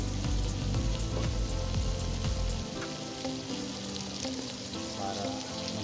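Goat meat kadingga with chili sizzles steadily in a little oil, a dense, close, continuous frying hiss that eases slightly partway through, with no talking.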